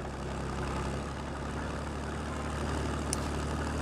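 Military transport trucks carrying infantry drive across a map in the video game Squad. Their engines give a steady, loud, low droning rumble throughout, with no speech.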